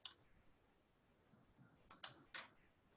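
A computer mouse clicks sharply once, then a quick cluster of three clicks follows after a short quiet pause, close and crisp against near silence.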